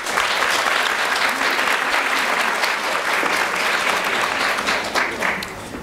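Listeners at a talk give a warm round of applause after a presentation, dense and loud clapping sustained for several seconds before tapering slightly at the close.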